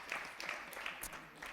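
Moderate applause for a bowling team captain at a mixed team match, a scattered clapping crowd heard at a distance beneath a presenter's voice.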